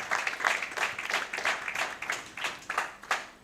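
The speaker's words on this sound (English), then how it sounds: "please, a round of applause for your Wellcome Trust" An audience applauds an organisation at the closing session of a conference, with steady clapping in waves that rise and fall and no voices on top.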